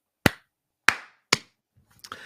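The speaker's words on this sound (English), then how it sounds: "Let's clap in." Three crisp unison claps from a small group at the start of a live show, close and evenly timed, followed by a brief soft rustle and faint noise.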